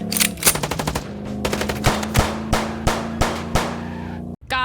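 Rapid gunfire from the Chicken Police video game: about a dozen sharp, loud, evenly spaced shots ring out in quick succession, then end abruptly.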